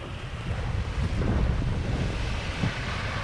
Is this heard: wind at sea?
yes